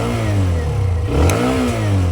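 A Hero Xtreme 125R 125cc motorcycle engine in road mode revs hard, rising and falling through two long throttle sweeps with a gritty, loud mid-range drone, close to the listener and free of talk.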